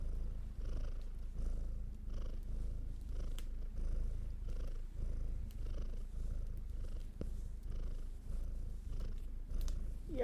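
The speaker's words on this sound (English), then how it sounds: "Might be purring, I don't know." A cat purrs softly and steadily in close range, a low rhythmic rumble pulsing with each breath in and out, quiet and alone without any talk.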